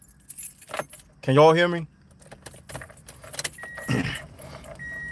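Car keys jangle and a car engine cranks in the driver's seat, with someone talking before and after; the jingling is clear and the start is brief and close.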